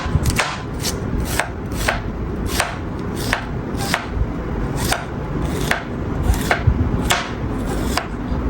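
Cucumbers are chopped finely with a knife on a board for jhal muri. Sharp, close knocks repeat in a quick, even rhythm, about two per second, with nothing else heard.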